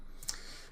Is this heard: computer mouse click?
yes